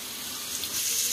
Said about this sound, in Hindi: पानी पानी भर लिया,